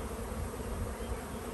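Honey bees at a small, weak spring hive colony make a steady, dense buzzing hum, close and soft, with no voices.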